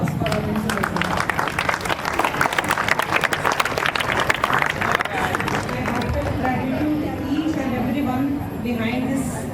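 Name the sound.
students applauding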